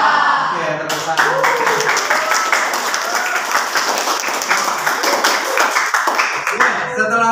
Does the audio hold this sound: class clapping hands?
yes